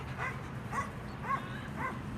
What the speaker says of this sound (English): means there's the barky dogs